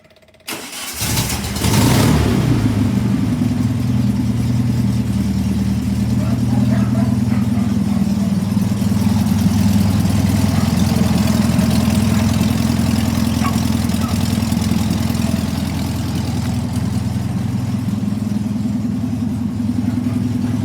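A VW Beetle engine with a new distributor cranks briefly and catches, then settles into a steady, loud, close idle with a low rumbling pulse that runs to the end.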